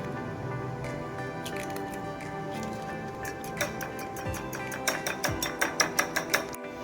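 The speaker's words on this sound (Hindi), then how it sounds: "2 अदद हम अंडे लेंगे, उसको हम फेंट लेंगे।" Two eggs are beaten in a bowl to coat chicken macaroni tikka kababs. Soft scraping strokes speed up into a quick, quiet run of rhythmic ticks near the end, with no speech.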